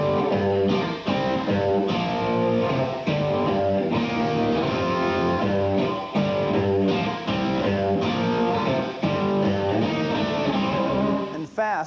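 Distorted electric guitar plays a fast shred melody with pivot notes linking chord shapes, a steady stream of picked notes with brief gaps, loud and close throughout.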